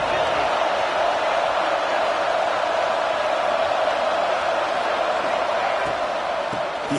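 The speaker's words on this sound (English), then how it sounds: "this home crowd is fired up and ready to make a difference today" A home crowd at a football game roars with a steady, dense wall of cheering that runs loud throughout, with faint talk beneath it.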